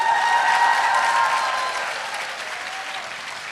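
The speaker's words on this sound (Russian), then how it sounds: "aplauso. Аплодисменты." Convention audience applauding, a dense steady wash of many hands clapping that starts loud and gradually fades over a few seconds, with no voices on top.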